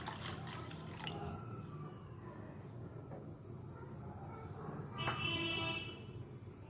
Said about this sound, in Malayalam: ഇതിലേക്ക് നമുക്ക് ആവശ്യത്തിന് വെള്ളം ഒഴിച്ചു കൊടുത്ത് നന്നായി തിളപ്പിച്ചെടുക്കാം.